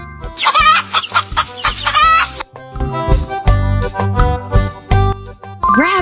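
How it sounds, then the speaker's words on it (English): A hen clucks in quick, loud bursts over a bright, jingly musical backing, the clucking dense at first and then giving way to the melody. "Hen."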